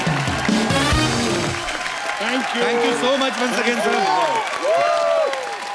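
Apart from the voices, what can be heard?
audience applause for the Sinha family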